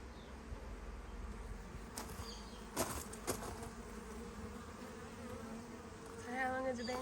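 Honeybees buzz softly around an open hive during an inspection, a faint continuous drone with a few close wingbeat passes and light handling knocks.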